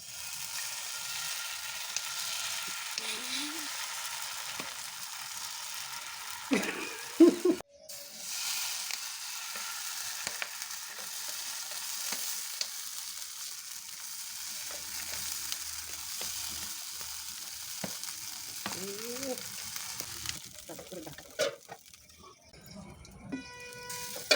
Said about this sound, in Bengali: এবার ব্যাটারটা একটা কাপের সাহায্যে ঢেলে দিচ্ছি।